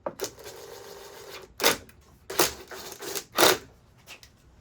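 Someone tightens a part on a 1998-2000 Ford Ranger, giving a few short, crisp mechanical bursts of clicking, close and moderately loud, separated by quiet pauses.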